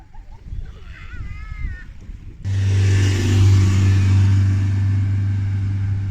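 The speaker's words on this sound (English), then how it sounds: "you could just hear it there with that van trying to get up the hill" A van engine suddenly roars up close and holds a loud, labouring drone as it strains uphill, after a few seconds of quieter outdoor background.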